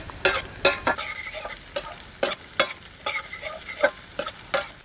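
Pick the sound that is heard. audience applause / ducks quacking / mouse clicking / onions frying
onions frying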